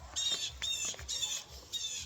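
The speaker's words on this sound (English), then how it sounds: "Do you hear that crow?" A crow caws outdoors in a garden: four harsh, evenly spaced caws at moderate distance, each about half a second long, with no talking.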